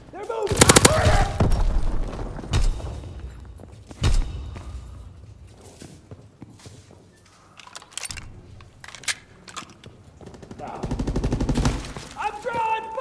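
Call of Duty WWII Search and Destroy match: sharp bursts of gunfire, loud at the start and again later, with scattered single shots and quieter stretches, while voices call out over the fighting.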